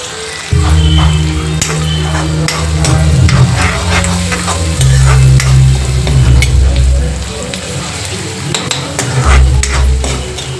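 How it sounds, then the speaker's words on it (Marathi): Chopped garlic tempering in hot oil in a pan, a loud close sizzle with frequent scraping and clinking of a spoon stirring against the pan, continuous across the whole stretch with no speech. "सो आता मी फोडणी टाकते"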